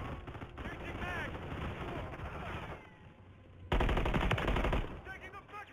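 Call of Duty Modern Warfare III gunfire: sustained automatic fire with heavy, close bursts, one loud blast partway through, and game voices calling out over the shooting.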